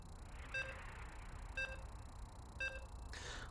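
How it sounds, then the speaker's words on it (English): Three evenly spaced electronic beeps, about a second apart, sound while a video game match loads, with a brighter tone ending the sequence over quiet background hum. "You can hear the beeps."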